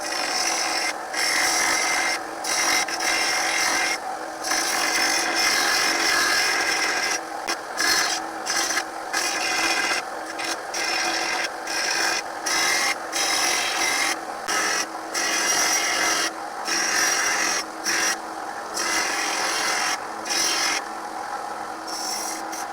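Hand file worked across the edge of a lawnmower blade to sharpen its bevel; repeated rasping strokes in a steady back-and-forth rhythm with brief gaps between passes, close and loud, with no talking.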